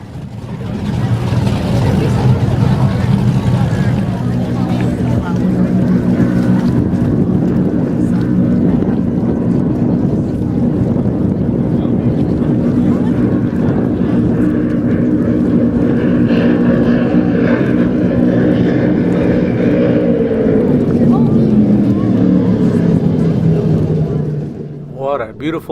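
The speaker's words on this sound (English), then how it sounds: "that boat was skimming the water at speeds of up to 160 miles an hour" A racing powerboat from Cleveland, Ohio, skims across the water at up to 160 miles an hour during a time trial at powerboat races in Dunkirk, New York. Its engine gives a loud, steady, close roar, and the pitch drops toward the end as it passes.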